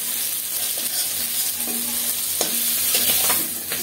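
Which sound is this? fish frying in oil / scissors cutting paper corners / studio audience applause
fish frying in oil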